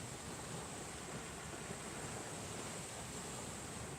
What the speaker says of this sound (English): you can hear just the waves crashing onto the shore ever so slightly